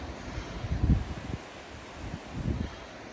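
Gusty wind buffets the microphone near a wet, blowy seafront on a walk between Arnside and Silverdale, coming in low rumbling bursts that swell and fade with rustling around them.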